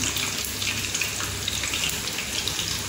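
Chicken lollipops fry in hot oil in a pan after being flipped, a steady close sizzle with bubbling crackle and no pauses throughout.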